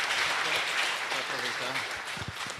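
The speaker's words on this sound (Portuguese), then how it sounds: "eu queria pedir uma salva de palmas para a professora Zezé" Audience applause honoring a professor at a communications conference ceremony, a broad wash of clapping with a voice speaking over it partway through before it thins out.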